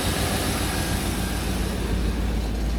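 A Land Rover Defender with a GEMS V8 conversion idles steadily nearby, a continuous low engine rumble with even loudness and no talk.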